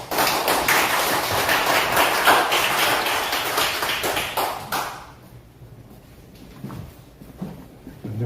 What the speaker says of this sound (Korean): 박수로 좀 환영해 주시기 바랍니다.